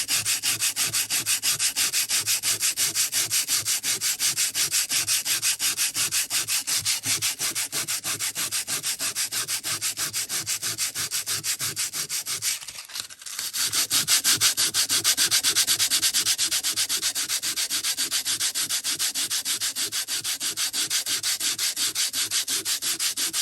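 Sandpaper rubbing rhythmically over junk mail paper in fast, even back-and-forth strokes, close and continuous, with a brief pause midway before the steady scraping resumes.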